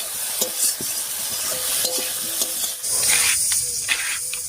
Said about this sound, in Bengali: এবার এই অবস্থায় একটুখানি ভাজা ভাজা মতো করে নেব।